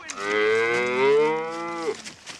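A cow lets out one long, loud moo that bends slightly in pitch before stopping abruptly, with only faint noise after it and no talking.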